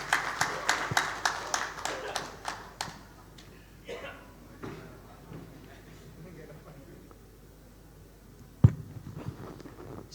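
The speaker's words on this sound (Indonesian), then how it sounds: "Bapak dan Ibu boleh kita beri tepuk tangan yang hangat untuk beliau" A brief scattering of audience claps at a hospital event fades quickly within the first few seconds, leaving quiet room noise and a single sharp knock later on.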